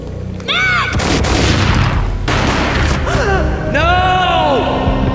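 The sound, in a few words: gunshot in video game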